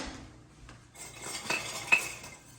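Kitchen utensils clatter as a whisk is grabbed from among them: a quiet start, then metallic clinks and rattling with a sharper clink near the end, close and without talking.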